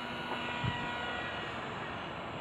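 Light airplane engine droning steadily, a faint continuous hum with a brief bump partway through, with no voices.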